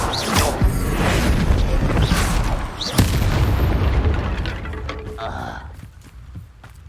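The Bombarda blasting spell from Hogwarts Legacy goes off as a booming explosion, with heavy rumbling blasts, a sharp crack near the middle, and the rumble fading away at the end.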